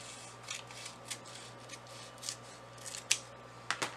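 Scissors cutting glassine paper for a craft project, with a few soft scattered snips and a sharper pair of cuts near the end against a quiet background hum.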